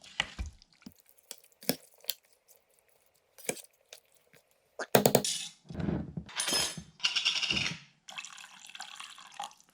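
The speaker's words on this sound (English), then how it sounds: "I think I'm going to need to put in more broth or stock" Broth or stock is poured into a pot of vegetables including carrot, giving scattered drips and then louder sloshing, gurgling splashes in irregular bursts, close by and with no talking.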